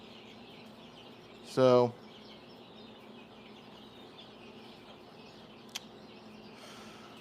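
Chickens and baby chicks in a chicken house, with one short, loud squawk-like call standing out over a faint, steady background hum, and a voice speaking briefly.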